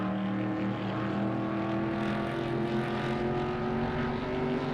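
NASCAR race cars circling Talladega in the 1996 NASCAR Racing 2 video game, a dense steady drone of many engines droning together at a constant high pitch, loud and unbroken.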